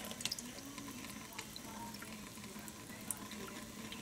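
Warm shower water runs steadily over a cat named Mo, a continuous splashing hiss with a few sharper drips and taps scattered through, close and even in level.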